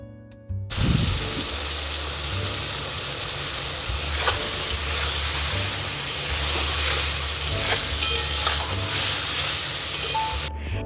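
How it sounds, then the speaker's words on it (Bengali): Ridge gourd curry cooks in a pan over a high gas flame, giving a steady sizzle and hiss with intermittent scraping stirs, close and continuous, with no talk over it. "এবার গ্যাসের আঁচটা একদম হাই ফ্লেমে দিয়ে পুরো সবজিটার যে জলটা রয়েছে সেটাকে শুকিয়ে ফেলতে হবে"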